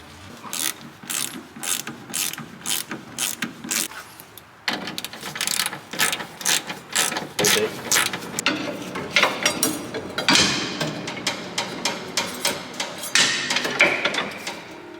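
Ratchet wrench tightening a 14 mm suspension bolt on a Toyota T100 truck, rapid bursts of metallic clicking in repeated strokes with short pauses between, close and fairly quiet, no voices.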